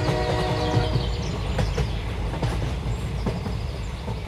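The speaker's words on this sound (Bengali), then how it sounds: "সকাল ৮টা নাগাদ লালগোলা প্যাসেঞ্জার ট্রেন।" A Lalgola passenger train runs along the line, a continuous low rumble with scattered rhythmic clacks and rattles, loud and close throughout.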